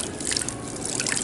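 Shoes rinsed under a running tap, giving a steady close trickle and splash of water throughout with no voices.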